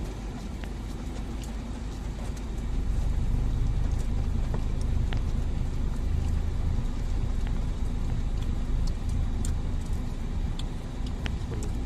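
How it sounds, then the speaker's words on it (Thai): Rain falling outside a house during a school day, a steady dense hiss that swells slightly louder after a few seconds and continues evenly with scattered small taps, no talking. "โอ้ฝนตก"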